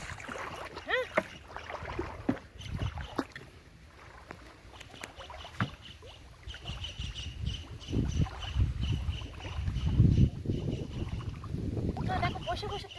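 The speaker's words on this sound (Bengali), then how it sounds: "দেখো বসে বসে চালাচ্ছি ভেলা।" Raft paddled slowly across a pond among water chestnut plants, with irregular watery splashes and sloshing strokes, wind buffeting the microphone, and voices talking intermittently nearby.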